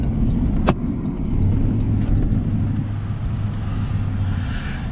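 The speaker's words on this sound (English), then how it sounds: "Look at this old car." An old car passing on the road outside a Pilot truck stop, its engine a steady, fairly loud rumble with one sharp knock early on and no talk over it.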